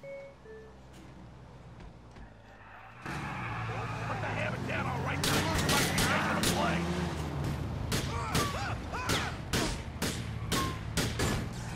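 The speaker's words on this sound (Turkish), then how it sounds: "Adam motosikletten ateş ediyor." Gunfire from a motorcycle in Grand Theft Auto IV rings out as a run of sharp, loud shots in irregular bursts over engine and traffic noise in the game.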